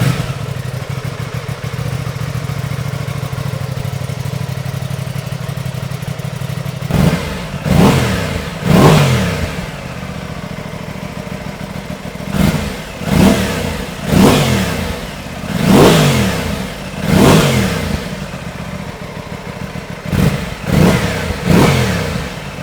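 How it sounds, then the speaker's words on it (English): Aprilia Tuono 660 motorcycle on its stock exhaust idles steadily, then gets a series of sharp throttle blips, about ten quick revs in clusters rising and falling over the idle, close and loud with no talking. "Let's go ahead and do a quick sound clip of the stock exhaust."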